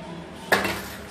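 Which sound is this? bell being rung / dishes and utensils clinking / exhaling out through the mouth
dishes and utensils clinking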